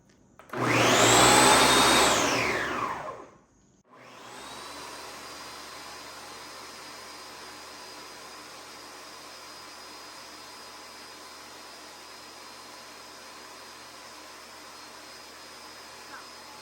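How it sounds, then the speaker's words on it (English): A food processor or blender whirs loudly for about three seconds as it purees corn for Cuban tamales, then shuts off abruptly and leaves a low, steady background hum. "We're gonna turn off our food process, our Blender."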